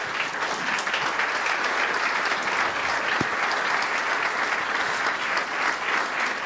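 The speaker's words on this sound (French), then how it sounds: "j'aimerais qu'on leur donne un tour d'applaudissements" Steady audience applause fills a keynote hall at a tech conference, dense and even clapping sustained at moderate loudness from start to finish with no talk over it.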